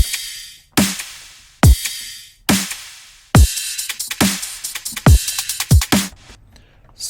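Brostep drum pattern of punchy, deep kicks and sharp, crisp snares, roughly one hit per beat with short fills toward the end, loud and dry with no other sound.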